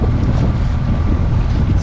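Sailboat heading upwind off the Balearic Islands with its engine kept running at low power, a steady low motor drone blended with loud wind buffeting the microphone and water rush, continuous throughout with no talking.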